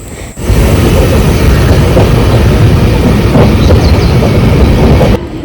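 Jan Shatabdi Express (12051) running between Dadar and Ratnagiri, heard from a window seat during monsoon rain: a steady, loud rumble of wheels and carriage that starts abruptly and holds evenly for about five seconds before cutting off.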